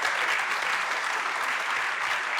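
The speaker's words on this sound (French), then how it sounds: "qu'on peut applaudir, il est splendide, il est magnifique" An audience at a table-arts competition applauds Eric Appenzeller, a continuous, even roar of many hands clapping, moderately loud and unbroken by speech.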